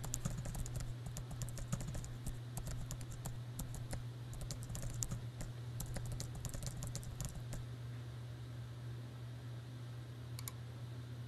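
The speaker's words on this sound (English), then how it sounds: "I'll type a quick note." Keys clatter in quick irregular bursts as someone types a short note on a Mac computer keyboard, faint and close over a low steady hum, with the typing stopping near the end.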